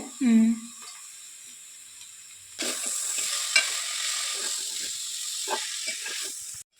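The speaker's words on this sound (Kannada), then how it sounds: "ಹಾಕ್ತೀನಿ ಟಮಟೆ ಹಣ್ಣನ್ನು, ಅದು ಬೇಯಬೇಕು ಒಗ್ಗರಣೆಗೆ" Tomatoes hit hot oil in a tempering and sizzle with a steady frying hiss, stirred now and then with soft scraping; a brief voice comes first, then the sizzle runs close and continuous.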